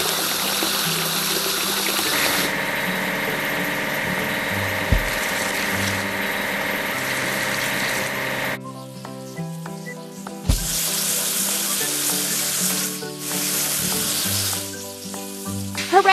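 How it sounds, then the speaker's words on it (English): Water sprays and splashes across a bucket lift in a children's train-station game, a steady hissing wash over bright cartoon music that cuts off briefly midway and then resumes. "We need to wash the bucket lift."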